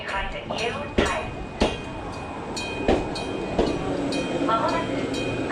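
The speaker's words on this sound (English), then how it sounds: "まもなく川崎方面行きの電車が参ります。" A commuter train arrives at a station platform in Japan, rumbling and screeching as it pulls in, with a series of sharp metallic clanks and a steady high whine, while station announcements and voices are faintly heard.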